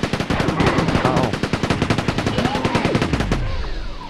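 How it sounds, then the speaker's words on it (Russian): A Quake 2 enemy on PlayStation fires a small gun in rapid automatic bursts, loud and close, a dense rhythmic stream of shots that stops abruptly near the end. "Он еще стреляет из маленькой пушки."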